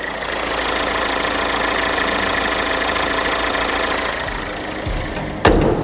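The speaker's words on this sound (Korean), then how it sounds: "앞으로 가서 엔진을 듣고 마무리하도록 하겠습니다 자 엔진은 바로 들어보실게요" A 1500cc SUV engine idles close by with a smooth, steady, continuous hum that drops away near the end, followed by a brief sharp click.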